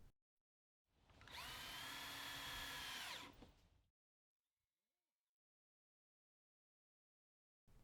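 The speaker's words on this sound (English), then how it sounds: "secure the handrails using 2 1¼ inch self-tapping screws" A power drill drives self-tapping screws into the plastic handrails of a Confer Plastics 7100 pool ladder, one steady whirring run of about two and a half seconds that winds down, then near silence.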